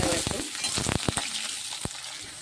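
Potatoes sizzling in a little hot oil tempered with cumin seeds and bay leaf, a steady loud frying hiss broken by sharp stirring scrapes and pops.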